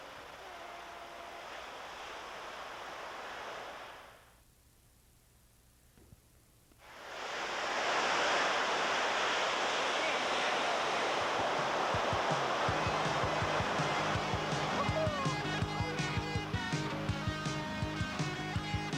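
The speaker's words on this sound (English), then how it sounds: "Now that afternoon the waves seemed to pick up a little." Ocean surf at Pipeline breaks in a steady roaring wash of waves on the beach. The sound drops away briefly near the start, then returns full and loud with rhythmic crashing and no talk.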